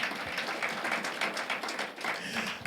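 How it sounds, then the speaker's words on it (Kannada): A church congregation applauds during a sermon, a steady wash of many hands clapping together that stays fairly even and moderately loud for a few seconds. "ಚಪ್ಪಾಳೆ ತಟ್ಟಣ ಅವರಿಗೆ"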